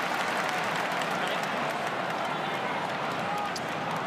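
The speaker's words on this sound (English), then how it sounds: "Really good crowd." Large stadium crowd at an AFL football night match of over 40,000, a steady, dense roar of cheering and clapping filling the air without a break.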